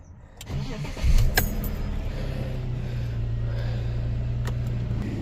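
A BMW E39 with a newly replaced FSU unit cranks briefly, fires up with a loud surge, then settles into a steady mid-pitched idle, heard close with a few clicks.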